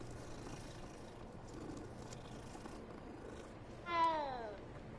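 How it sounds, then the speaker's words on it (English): A cat in a Hogwarts video game lets out one short, rising meow near the end, standing out over a quiet bed of ambient game background noise. "No, I don't want to pet the cat."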